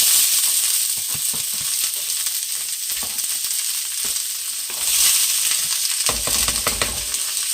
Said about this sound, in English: we're going to start to saute our onions and peppers first